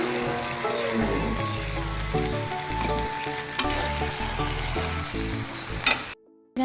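Water hits a hot pan of shukto vegetables and sets off a loud, steady, close sizzle with stirring clatter. The sound cuts off abruptly near the end.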